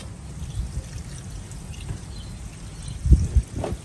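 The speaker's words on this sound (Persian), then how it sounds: "آبو خالی میکنید." Rinse water poured off soaked rice by hand in a large restaurant-style chelow batch, a low splashing pour running throughout with a louder gush near the end.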